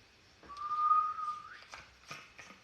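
A person whistles one long steady note that wavers and slides upward at the end, followed by a few breathy, broken attempts.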